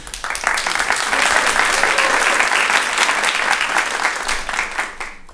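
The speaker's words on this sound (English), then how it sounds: "You heard some claps as they were coming on the stage." Sustained applause from a live audience as a guest walks onto the stage at a podcast's live show, steady and full for about five seconds before tapering off.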